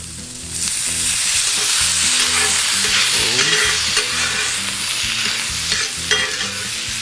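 Shrimp stir-fried with garlic and ginger, a loud, close, continuous sizzle with bright crackling and steady stirring throughout.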